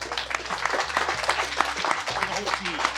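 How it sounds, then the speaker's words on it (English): Crowd applause at an off-road racing awards gathering in Kentucky, a brisk burst of many hands clapping, close and lively, with some voices mixed in. "Let's give him a big round of applause."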